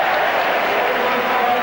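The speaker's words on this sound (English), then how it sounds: "just listen to the crowd's appreciation of Glenn Hoddle" Football crowd at a 1985-86 league match applauding a goal, a dense, steady roar of clapping and cheering from a large stadium audience that fills the whole moment without letting up.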